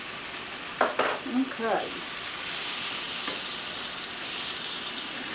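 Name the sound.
battered chicken fried steak frying in pan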